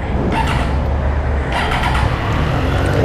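A 2017 Triumph Street Triple S motorcycle engine runs close by with a steady, dense rumble. The sound holds at an even level without clear pauses.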